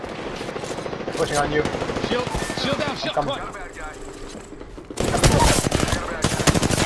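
Gunfire in Apex Legends, rapid automatic bursts cracking over game sounds, with a player talking briefly and a heavier, louder volley in the final seconds.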